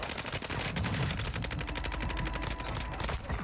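Rapid automatic gunfire from a loadout weapon in the video game Warzone, a dense, continuous stream of close shots rattling steadily for the whole stretch with no talking over it.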